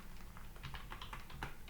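Typing on a computer keyboard while entering Java code, with quick irregular clicks and taps at close range, fairly quiet and steady over a low background hum.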